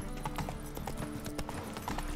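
Roach, a horse in The Witcher 3, walks with a steady clip-clop of hooves. The steps sit over a dense, constant game ambience, and there is no talk.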